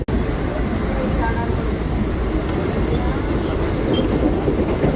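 A Churchgate–Virar fast local train runs alongside the Karnavati Express, giving a loud, steady rumble of rolling rail noise with faint clatter throughout.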